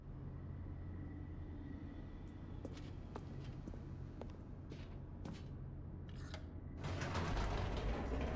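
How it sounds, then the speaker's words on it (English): An elevator descending in The Stanley Parable: a steady low mechanical rumble with creaks and clicking gear-like ratchets scattered throughout, swelling into a louder rushing roar in the final seconds. "The elevator raced downward"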